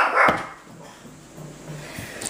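A watchdog dog barks at someone arriving at the door: one loud, close bark near the start, then quieter low yips and whines in an indoor room.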